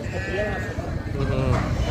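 Sheep bleat repeatedly at a crowded sheep and goat market in Dhone, wavering cries close by over a busy background of people talking.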